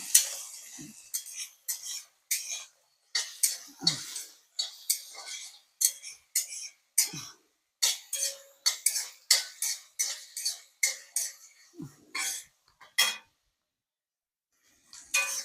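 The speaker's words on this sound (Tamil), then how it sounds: "3 தக்காளி போட்டாச்சு. அதுவும் நல்லா வதங்கட்டும்." Three tomatoes sautéing in a pan for nandu kulambu (crab curry), stirred with a metal spoon that scrapes and clinks against the pan in quick, irregular bursts, with faint sizzle between strokes and a quiet pause near the end.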